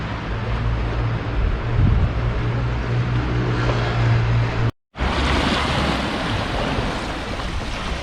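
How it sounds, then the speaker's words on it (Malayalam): Surf rolls onto a quiet off-season Amalfi Coast beach in cool weather, a loud continuous wash of waves mixed with wind buffeting, broken by one short gap of silence. "അടിപൊളി ബീച്ചാണ്."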